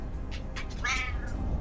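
A house cat gives a short, slightly drawn-out meow close by over low room hum.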